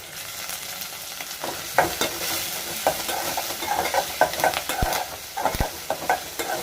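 Onions, curry leaves, garlic and green chilies fry in a pan for Telangana-style fish curry, with a soft steady sizzle and repeated scraping knocks of a spoon stirring against the pan.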